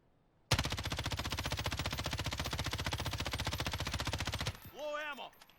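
An M13 assault rifle in the video game Warzone fires one sustained automatic burst of about four seconds, loud and close and evenly paced, then cuts off into a short rising and falling electronic tone.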